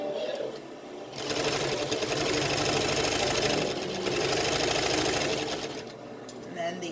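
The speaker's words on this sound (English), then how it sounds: "I'm going to back stitch over it just to make sure it" A sewing machine back-stitches over a fold on a dog coat, whirring in two long, close, steady runs with brief quieter dips between them.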